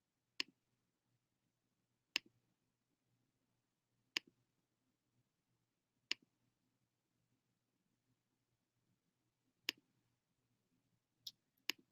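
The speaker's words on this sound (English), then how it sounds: "I am like clicking these buttons." Sharp, isolated button clicks spaced a couple of seconds apart, several single or doubled taps, faint and close in an otherwise near-silent room.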